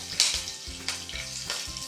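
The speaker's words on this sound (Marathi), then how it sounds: "राई मस्त तडतडली" Mustard seeds crackle and splutter in hot oil, a rapid irregular patter of sharp pops heard up close.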